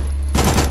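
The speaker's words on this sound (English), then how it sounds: "You wanna meet my friend? The SMG?" SMG gunfire in the video game Signalis: a rapid, loud burst of automatic shots starting partway through, close and dense, rattling on over a steady low hum.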